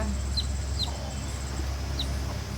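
Chickens cluck and chirp a few times at a moderate distance over a steady low hum of background noise.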